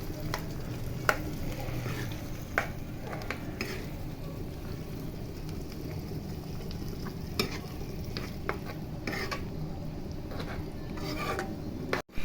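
Chicken curry with tamarind being stirred in a pan, a steady close sizzle and frying hiss with a spoon scraping and rasping against the pan in an irregular rhythm, no voices.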